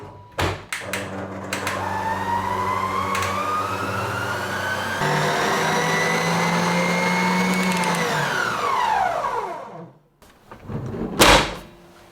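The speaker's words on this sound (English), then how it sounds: "I'm going to get them into my stand mixer" A stand mixer whipping egg whites whirs steadily at high speed, pitch shifting partway through, then winds down and stops, followed by a few clunks.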